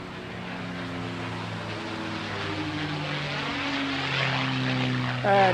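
P-51 Mustang 'Warhorse' propeller aircraft flying at the Bournemouth Air Festival, a steady droning engine hum that swells slightly as it passes, ending in a brief louder burst.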